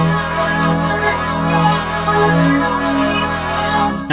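A Yamaha MODX synthesizer plays an FM patch with filter cutoff movement and an insert effect, giving a sustained, shimmering tone with a slowly shifting texture and soft rhythmic accents, loud and alone for about four seconds.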